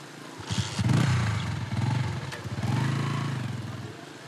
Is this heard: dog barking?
no